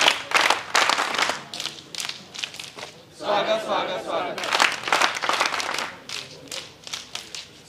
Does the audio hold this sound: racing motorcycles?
no